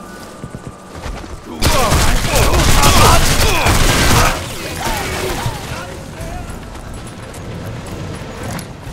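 Gunfire from the video game Sniper Elite 3 erupts in a dense, loud burst of shots and crashes lasting a few seconds, then fades into rumbling echoes, with a voice calling out over it.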